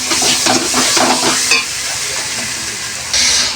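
Meat stirred into spice paste in a pan sizzles loudly and steadily during Bengali home cooking, with scraping stir strokes over the first seconds and a continuous hiss of frying throughout, close and unaccompanied by talk.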